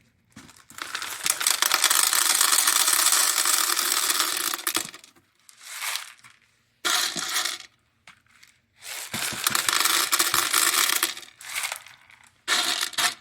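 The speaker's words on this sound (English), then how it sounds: "And pour them into the bottom of your terrarium." Clay beads poured into the bottom of an isopod terrarium, clattering and rattling in long loud bursts separated by short pauses, with no voices.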